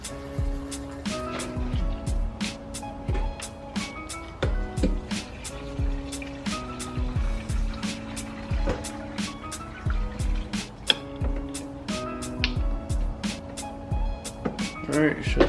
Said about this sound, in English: So I'm just letting all the gas siphon out into this